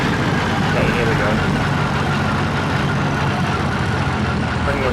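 A WWII plane engine in the Cliffs of Dover flight sim drones steadily and loudly with a dense low rumble and a shaky roughness, throttled back, with no break through the whole stretch.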